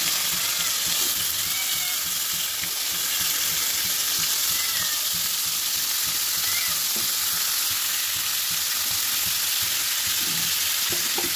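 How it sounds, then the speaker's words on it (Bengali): Pieces of pangas fish, a large one over 2 kg, sizzle and crackle steadily in very hot oil in a pan, a continuous bright frying hiss with no talk. "এই একটু সব মাছগুলো দিলাম, মাছের তেলটাও দিয়ে দিলাম।"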